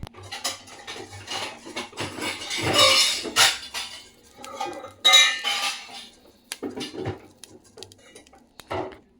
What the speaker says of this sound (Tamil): இதுக்கு மேலே ஸ்டாண்ட் வச்சு கேக்கு ப்ளேஸ் பண்ணிடலாம்